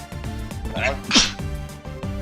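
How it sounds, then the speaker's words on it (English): One sharp, close sneeze bursts out over soft music and background voices at a Yu-Gi-Oh! championship match. "Everyone sneezes."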